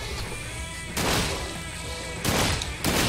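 Several sharp pistol shots crack in bursts over a dense, noisy background, loud and close, in the video game Sunset Overdrive.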